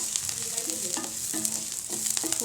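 Onion, garlic, mint and curry leaves sauté in a pan for onion kara chutney, with a steady sizzle and repeated scraping, clinking stirs of a spoon against the pan.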